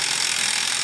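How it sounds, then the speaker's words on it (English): An impact gun with a 30mm socket works loose the hub nut on a Peugeot 207, a loud continuous whirring rattle heard close up, with no talking. "we got a cheat gun, so let's use the cheat gun."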